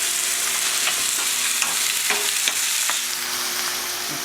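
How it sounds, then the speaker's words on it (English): Onions and garlic sizzle steadily in a pan as the base for an Italian fish soup (zuppa di pesce), a dense close crackle with occasional sharper pops and scraping stirs. "while the onions are caramelizing, the garlic is still turning brown"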